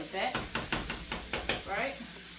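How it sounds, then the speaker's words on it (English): Shrimp lo mein noodles are stirred in a pan: a quick run of about six light utensil taps and scrapes over a faint sizzle, with brief voice-like sounds at the start and end. "I'm just gonna stir them up just a little bit"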